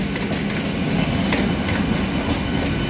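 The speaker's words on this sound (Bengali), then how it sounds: "দাসনগরে বন্দে ভারত এক্সপ্রেস পাস করছে" The Vande Bharat Express rushes through Dasnagar railway station, a loud, steady roar of wheels and rail clatter that holds strong from start to finish, close by and alone without voices.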